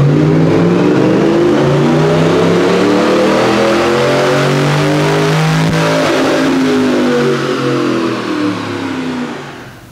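Tuned Ram truck with eTorque engine revving hard on a dyno, a loud sustained roar sweeping up in pitch through the gears for about ten seconds, then easing off at the end.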